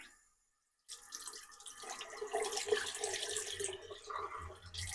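Cold water runs steadily from a tap in a converted bus after a brief silence, a continuous splashing hiss with no talking.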